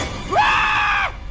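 A single loud scream from a person rises sharply and holds a sustained high pitch for under a second before breaking off, with only faint background noise around it.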